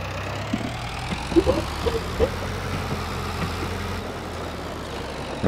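Tractor engine idling and running in Farming Simulator 22, a steady low rumble holding evenly throughout with a few faint knocks over it and no talk.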